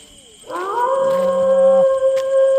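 A dog lets out a long, drawn-out howl, loud and close, rising then holding a steady pitch.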